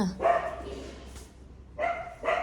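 An outdoor dog gives two short barks, separated by a pause, over a steady background hum, moderately close and fairly loud.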